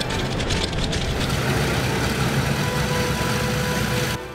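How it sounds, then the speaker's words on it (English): Engine number one of a WWII aircraft starts up and runs as a dense, loud, steady roar with heavy low rumble, holding constant throughout before cutting off abruptly at the end. "Start on engine number one."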